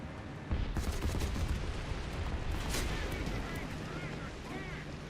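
Heavy booming cannon fire and impacts from an enemy tank close by in War Thunder, with deep rumbling blasts and a continuous roar of battle noise, fairly loud throughout.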